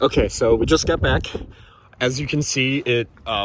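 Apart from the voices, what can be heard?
No distinct noise like a dog, phone or traffic.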